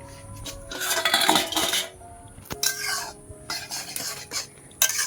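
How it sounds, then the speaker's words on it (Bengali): A lid comes off a cooking pot of boiled Malabar spinach, with metallic clanks and scrapes in several short bursts, a sharp clink near the middle, and brief quiet gaps between the bursts. "ঢাকনাটা খুলে নিচ্ছি।"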